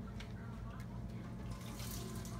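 Water runs steadily during a water change in a jellyfish tank, a continuous close hiss and splash that stays even from start to finish.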